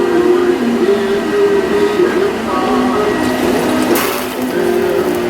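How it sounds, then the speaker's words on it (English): Water simmers in a pan of portobello mushroom risotto over medium heat, a steady close hiss and bubbling that runs unbroken throughout. "And I'm also going to add a cup of water."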